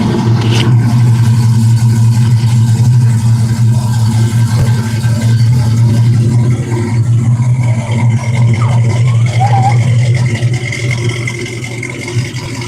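A classic Alfa Romeo car engine idles and hums steadily at close range at a London classic car parade, a low rumble with a slight rise and fall, no voices over it.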